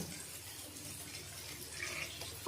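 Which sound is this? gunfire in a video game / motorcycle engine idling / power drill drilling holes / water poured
water poured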